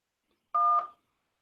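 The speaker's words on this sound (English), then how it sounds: "To accept, press 1." A single telephone keypad tone, pressed as the 1 key to accept an incoming call, sounds as one short, clear DTMF beep lasting under half a second, with silence before and after it.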